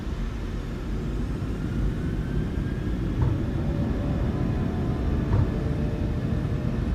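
The engines of a Norwegian PMDG Boeing 737 in Microsoft Flight Simulator 2020 spool up to takeoff thrust at Oslo, a steady, heavy rumble with a faint rising whine, with no talk over it.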